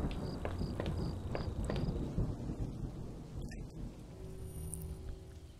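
Rolling thunder and steady rain in the video game Home: a low, continuous rumble with rain hiss, some light tapping early on, and no voices.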